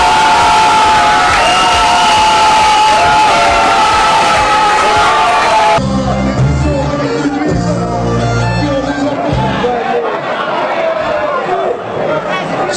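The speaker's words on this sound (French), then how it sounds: "Alors les fans de la pause applaudissent." A large crowd of fans cheers and shouts loudly, with whoops and children's voices, then the noise drops into a busier mix of chatter and voices.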